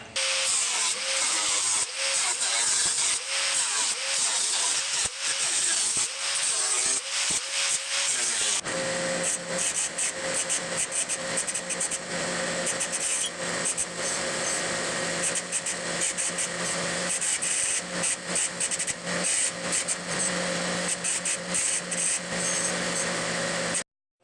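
Metal end caps for a mini bike muffler being cut out with a power tool, a harsh continuous grinding whine that runs loud and steady throughout, changing pitch partway as the cut shifts, with no talking.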